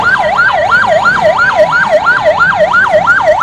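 A loud ambulance siren in Uganda wails in quick, regular rising and falling cycles, about three per second, close and steady throughout with no talking.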